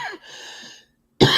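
A single short cough from an adult, followed by a pause and then a second harsh, loud burst at the end.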